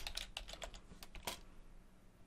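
Rapid typing on a computer keyboard while writing WordPress theme code, a quick burst of close, crisp key clicks that slows into a few scattered taps with a final heavier keystroke.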